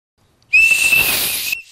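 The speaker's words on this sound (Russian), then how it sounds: "чтобы готовая свистулька издавала свой звук" A toy clay whistle (svistulka) blown in one steady, shrill, piercing tone that lasts about a second, loud and close, with a breathy hiss behind it and no talk.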